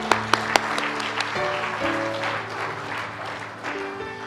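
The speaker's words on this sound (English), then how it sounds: "Give her a round of applause." An audience at a church gathering claps in sustained applause, broadband and fairly loud, with a few sharper claps early on and a low hum of music running beneath.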